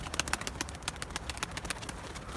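An Arka Tepe Miski pigeon makes soft, quick flutters and brief close sounds in a rapid irregular series, fairly faint and alone without talk.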